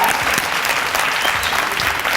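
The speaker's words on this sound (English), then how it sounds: "Round of applause for that debate." Audience applause at the close of a debate on tourism in South Africa, a steady broad clapping that fills the short stretch without a break, fairly loud and even throughout.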